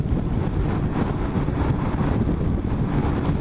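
Wind rushes steadily past a car cruising downhill at about 65 mph, a dense, continuous low roar with airy buffeting and no letup, loud and close throughout.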